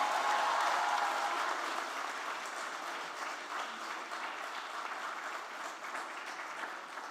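A large audience at an official inauguration event applauds and cheers, a broad, even roar of clapping that stays steady before easing slightly toward the end, heard at a distance.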